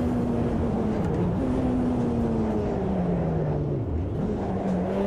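Ferrari F512 BB LM race car in the Automobilista 2 racing sim, its engine a steady, droning roar close by that dips and climbs as it shifts gears, with no talk.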